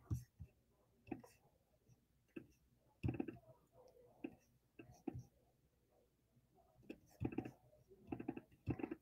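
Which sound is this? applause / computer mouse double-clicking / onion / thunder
computer mouse double-clicking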